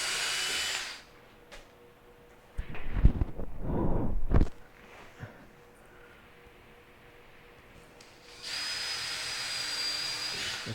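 A power drill bores holes in a teardrop camper build, with two short whining bursts in the middle, framed by louder steady hissing noise at the start and end.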